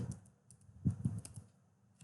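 Keys on a computer keyboard are tapped in short, quiet bursts of clicks with small pauses between, close and soft in a still room while typing a word into a document.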